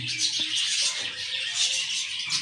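Pet birds kept indoors at home chirp and tweet faintly in a soft, steady chatter, with no voices heard.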